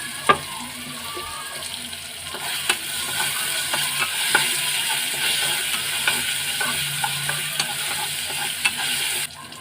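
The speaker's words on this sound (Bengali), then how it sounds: "রসুন ভাজা হয়ে গেছে, এবার কচুরলতিগুলো দিয়ে দিলাম।" Taro stolons hitting hot oil with fried garlic in a pan, a steady sizzle broken by repeated sharp scrapes and knocks of a spatula stirring close by.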